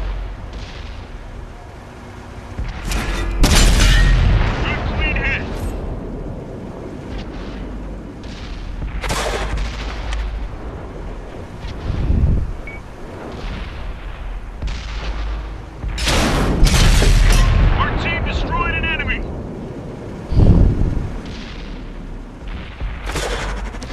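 Tank cannon fire in World of Tanks, the T34 heavy tank firing on enemy tanks: heavy booming shots land around 3, 9, 12, 16 and 20 seconds, each a loud blast with a rumbling tail, amid constant engine and battle noise.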